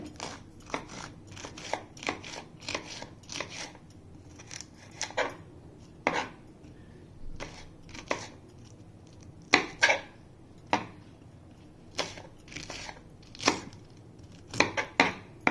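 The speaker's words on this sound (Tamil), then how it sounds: "காரத்துக்கு 3 பச்சை மிளகாய் கட் பண்ணிக்கலாங்க." A knife cuts green chillies steadily on a cutting board, many quick crisp taps in an uneven rhythm, close and moderately quiet, with no talking.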